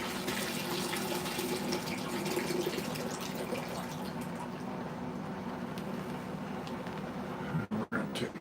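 Frothy slurry water is dumped out of a bucket from a rock tumbler, a continuous splashing pour running for several seconds before a brief sputtering finish.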